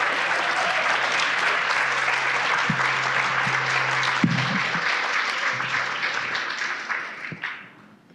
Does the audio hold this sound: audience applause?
yes